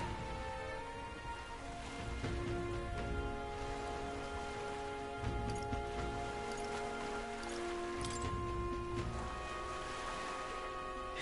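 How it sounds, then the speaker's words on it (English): Steady rain patters on a surface with a constant hiss and scattered drops, while faint tonal hums run underneath throughout. "This bloody rain."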